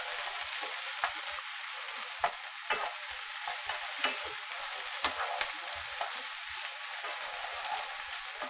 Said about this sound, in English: So I'll just add our green peppers. Let that cook up for a minute.